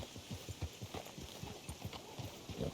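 Horse hooves clip-clop in Red Dead Redemption 2 in a steady, even walking rhythm, fairly faint but clear, with no talk over them.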